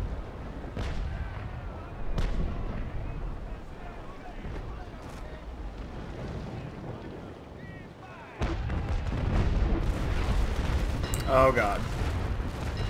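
Naval Action port battle at Islamorada with sailing warships exchanging cannon broadsides, deep rolling booms and rumbling volleys that swell louder near the end, with voices talking over the gunfire.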